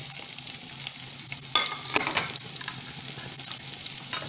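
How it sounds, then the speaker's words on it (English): Chopped onion sautés in hot oil seasoned with asafoetida, a steady close sizzle and crackle broken by a few scraping stirs of the pan. "I will be sauteing it until it turns dark brown in color."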